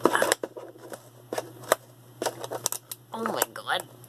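Plastic packaging on a craft tool is cut open with a series of close, crisp snips and crinkling plastic, irregular in rhythm, with someone talking in between.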